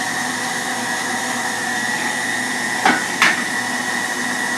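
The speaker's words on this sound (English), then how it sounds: "you're just going to grind away until you get all of your meat ground up" A meat grinder working hamburger meat gives a steady, loud mechanical whine, broken by two brief knocks partway through.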